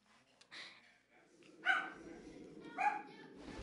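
A pet dog barks a couple of times, close and fairly loud, with short yips between the barks over a low background hum.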